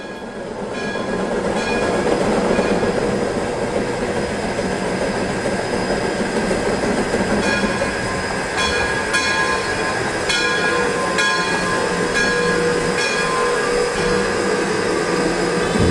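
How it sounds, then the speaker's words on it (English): A train rumbles steadily along the tracks near Bear Mountain with a continuous heavy roar, faint metallic squeals and clicks rising over the rolling noise. "As the train approaches Bear Mountain, the train will stop and rest here for several minutes"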